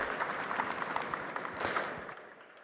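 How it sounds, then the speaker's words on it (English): An audience at a barista competition final applauds its first finalist, steady dense clapping with a few whoops, moderately distant, tapering off toward the end. "Mag ik een heel groot applaus voor onze eerste finalist, Mitchell"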